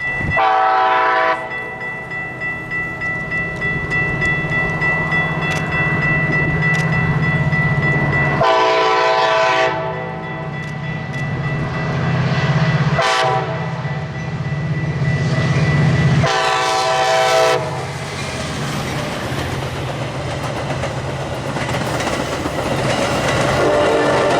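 A train rumbles past steadily with clattering wheels, its horn sounding in several long blasts spaced across the passage.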